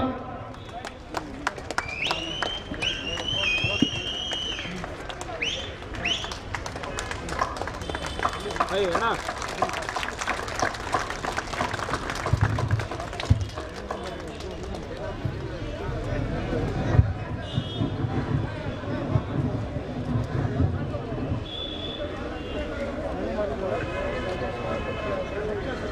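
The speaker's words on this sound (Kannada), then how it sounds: "ಎಲ್ಲ ಜೋರ ಚಪ್ಪಾಳೆ" Crowd applause and cheering at a Congress party event during a handover of office, a dense, continuous clapping wash lasting throughout, with voices and shouts mixed in.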